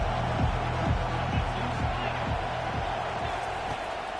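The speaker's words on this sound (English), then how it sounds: "This crowd trying to show them what it's going to be like all day in this house." Crowd in a packed football stadium at an NCAA game, a continuous loud roar of cheering with rhythmic low thumps like stomping or drumbeats running through it.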